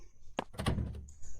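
A door swings shut in the horror game Skull Hotel, a single muffled thunk with a short knock-like impact, close and moderately loud against a quiet room tone.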